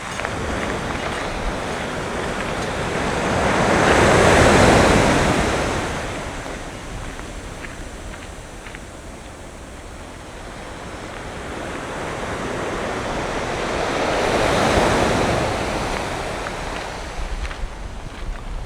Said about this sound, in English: So I think this might be one of the most relaxing waves I've heard this morning.